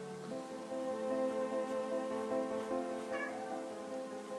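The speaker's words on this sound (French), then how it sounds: "Si vous entendez des bruits bizarres, c'est mon chat." A cat lets out a long, drawn-out meow, close and fairly loud, holding a steady tone for several seconds with a slight rise near the end.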